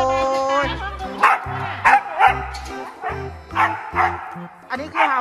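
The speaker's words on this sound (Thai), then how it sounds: "อันนี้คือเห่าอ๋อเห่าเห็นเจ้าของมา" A dog barks and yips excitedly on seeing its owner come home, a run of close, loud barks with whimpering tones in between, while people talk over them.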